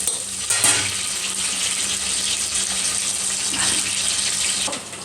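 Onions frying in a pan for chicken curry, a steady broadband sizzle running throughout at a close, even level with a few brief clatters.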